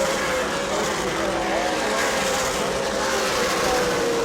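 Super late model stock cars in the Governor's Cup 200 at New Smyrna roar around the track in a continuous, loud, layered engine drone, with shifting pitches as cars jostle for position.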